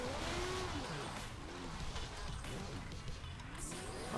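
A powerful car accelerates along a straight road in the racing game Forza 3, its engine note climbing steadily through gears at a moderate, even level.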